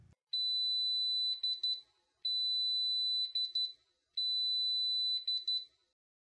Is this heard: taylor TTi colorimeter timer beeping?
yes